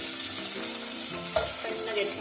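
Chopped tomato fries in a pan with green chillies for dal dokliya, a continuous close sizzle with a brief stirring knock partway through.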